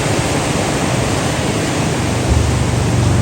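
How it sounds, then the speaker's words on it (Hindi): Fast, loud floodwater rushing through the river at Head Islam, a dense, steady roar of churning flow that fills the whole clip with no pause, swelling slightly near the end. "बहुत तेज़ जो है ना पानी चल रहा है माशाल्लाह।"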